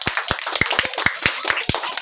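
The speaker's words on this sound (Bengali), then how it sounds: "হাততালি দাও সবাই হাততালি দাও" People clapping hands during a needle-threading contest, a run of sharp, close claps in an uneven rhythm with faint voices behind.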